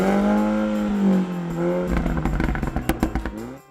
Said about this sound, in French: Elle amplifie également la sonorité du système d'échappement de votre Mini, créant une expérience de conduite encore plus intense.